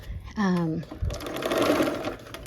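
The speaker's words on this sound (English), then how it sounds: "So let's go ahead and sew this last seam of the quilt top." A sewing machine stitches the final seam joining black gingham borders onto a quilt top, a steady close mechanical whir running after a brief voice.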